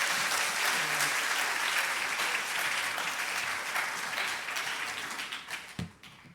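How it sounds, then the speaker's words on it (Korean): Loud, sustained applause from a large church congregation filling the space, gradually tapering off near the end. "박수로 환영해 주시기 바랍니다."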